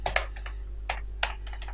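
Computer keyboard typing in accounting software while an electricity bill entry is made: quiet, sparse keystrokes in a few short clusters over a steady low hum.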